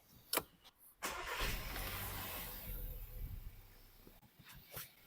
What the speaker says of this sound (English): Then after that I'm going to start the car.